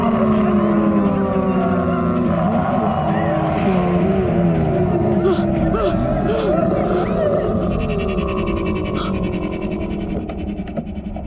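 A car engine revs hard and pulls away, loud and sustained for the whole stretch, with speech and a murmur of voices over it in a tense night scene of a Hindi horror drama.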